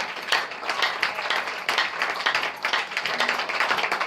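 A church congregation claps hands continuously, dense overlapping applause with rhythmic surges, fairly loud and without speech.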